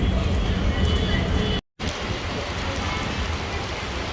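Heavy rain pours down outdoors in India, a dense continuous broadband hiss that stays loud and steady throughout, briefly cut by a short dropout.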